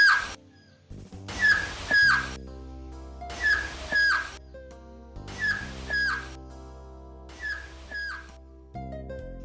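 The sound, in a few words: pyramid echo chirp resembling quetzal call, high to low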